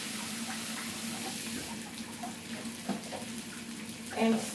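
Cold water poured into a cooking pan with tomato sauce while making a chicken breast dinner, a steady, soft rush of liquid that runs under faint kitchen noise, with a brief louder splash near the end.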